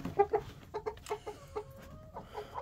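Hens and roosters cluck in a coop after a snowstorm, a run of short, close, moderately loud clucks and calls in an irregular rhythm with no talking.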